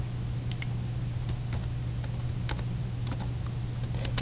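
Fingers tap a computer keyboard in short, uneven bursts of crisp, close clicks over a faint steady hum, with no voices.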